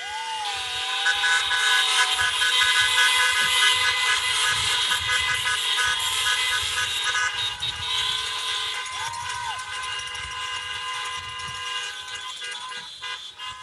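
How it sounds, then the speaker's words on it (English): Car horns honking at an outdoor school commencement, several long sustained toots overlapping into a continuous blare, with a few rising and falling horn tones, heard at moderate distance. "I encourage everyone present to honk your horns loudly"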